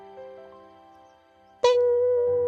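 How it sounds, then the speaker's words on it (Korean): A bell sounds in the distance, in a Cinderella bedtime story: one sudden struck tone rings out partway through and sustains with a shimmering decay, after a quiet stretch of soft tonal background. "멀리서 종소리가 울려 퍼졌습니다."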